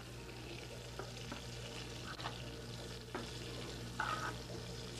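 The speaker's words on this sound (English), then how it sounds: "Just going to put them in arrange them in the pan real nice." Rolled veal spedini sizzle steadily in a frying pan, a continuous close hiss broken by a few soft clicks and taps as the pieces are set in place, with no talking.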